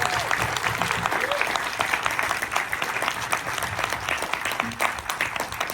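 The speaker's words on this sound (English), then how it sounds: "let's give these guys applause" Loud, dense applause from a seated audience at a horror film anniversary Q&A, sustained clapping throughout with a few faint voices mixed in.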